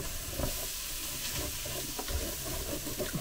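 Vegetables cooking in a Ninja Speedi for a one-pot Spanish chicken with rice, giving a close, steady sizzle and hiss with intermittent stirring scrapes and no voices.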